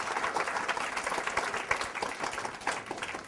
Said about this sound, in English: people at home, they're paid money to clap